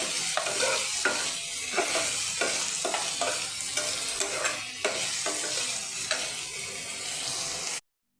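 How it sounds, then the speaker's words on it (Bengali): Chopped onions fry and sizzle steadily in a pan for egg curry, with a dense hiss broken by regular scraping stirs about once a second, close and alone until an abrupt cutoff near the end. "পেঁয়াজটা ভালো করে লাল লাল করে ভেজে নেব।"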